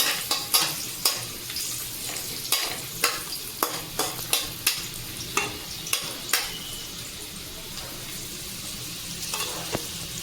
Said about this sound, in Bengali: তো আমি সবজিগুলো একটু ভেজে নেব প্রথমে